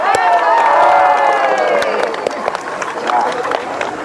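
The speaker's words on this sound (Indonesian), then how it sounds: "Tepuk tangan sekali lagi." A crowd at a university anniversary fun-walk send-off in Makassar claps and cheers, a dense wash of hand claps under loud voices and shouting.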